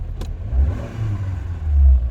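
A Renault Clio driving-school car, with a second steering wheel, starts and revs: a short click then a close, rumbling engine swelling twice in quick revs.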